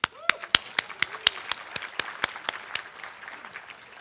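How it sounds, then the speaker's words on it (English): Applause at a tribute evening near Boulder City Hospital, sparse and distinct: a few sharp, rhythmic claps at first, fading into softer scattered clapping with faint murmur beneath. "Can I give you a big clap?"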